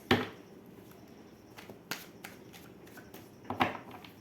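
Tarot cards are shuffled and drawn in a quiet room, with a few soft riffling bursts and light card snaps spaced out over a few seconds, close and fairly faint, with no talking.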